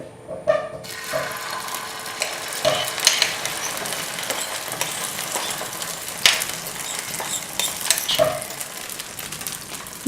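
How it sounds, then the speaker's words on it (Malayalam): Jackfruit omelette batter hisses and sizzles as it hits a hot pan, with a steady frying crackle and a few soft clinks of a utensil throughout. "നന്നായിട്ട് അടിച്ച് പതപ്പിച്ച് വെച്ചിരിക്കുന്ന ഓംലെറ്റിൻ്റെ കൂട്ട് നമുക്കിതിലേക്ക് ഒഴിക്കാം"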